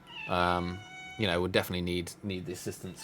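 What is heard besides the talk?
cat meowing for treats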